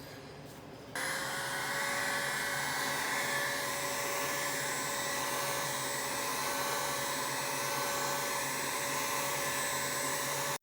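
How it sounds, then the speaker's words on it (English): A heat gun blows steadily on a valve cover freshly coated in red wrinkle paint to speed curing; a continuous close whooshing drone with a faint whine starts after a brief pause and holds unchanged for about ten seconds. "Now I'm gonna use a heat gun and kind of speed up the curing process and just make sure it wrinkles."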